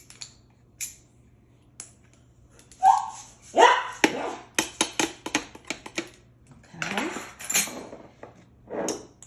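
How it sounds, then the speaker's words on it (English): Scout, a dog, gives a few short barks in a home kitchen while a pear preserves cake is being mixed, mixed in with the clink and clatter of utensils and dishes nearby. "I'm sorry, but Scout he barks."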